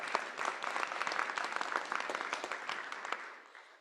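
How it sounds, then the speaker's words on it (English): Attendees at a board of directors meeting clap together in a steady, moderately loud round of applause that tapers off near the end, with no talk over it. "We can clap for them too."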